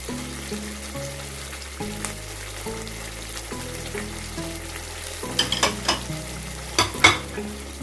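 Fried marinated chicken is stirred into masala in a pan for Mughlai chicken changezi, with steady scraping and clinking strokes over a low sizzle, growing louder and busier toward the end.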